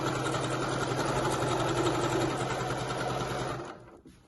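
A sewing machine runs gather stitches along an indigo dress, a steady close whirring of rapid needle strokes that holds evenly for about three and a half seconds, then winds down and stops.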